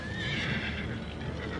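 Horses whinny amid a dense clatter of hooves while soldiers on horseback close in around a house, the noise continuous and fairly loud throughout.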